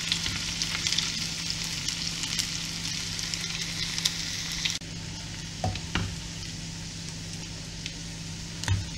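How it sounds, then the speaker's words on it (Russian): Draniki potato pancakes fry in a pan with a steady crackling sizzle that drops to a quieter level midway, with a few utensil knocks and no speech. "Обжариваем со второй стороны."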